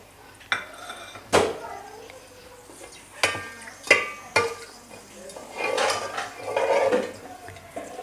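Whole garam masala, including cardamom, bay leaves and star anise, goes into a cooking pot with scattered metallic clinks and clatters of utensils, followed by soft stirring and faint sizzling up close.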